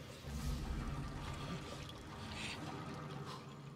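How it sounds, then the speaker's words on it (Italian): Water sloshing and churning around the player as they move through flooded areas in the game Still Wakes the Deep, a continuous low gurgling wash with soft splashy swells, fairly quiet and without speech. "si smuove l'acqua quando andiamo"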